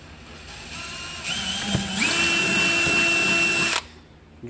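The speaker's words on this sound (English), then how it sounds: "Using a 3/16 inch drill bit." A power drill fitted with a 3/16 inch bit bores a hole in a DIY ice-fishing power box, with a loud whirring motor that rises in pitch under load for about two and a half seconds, then stops.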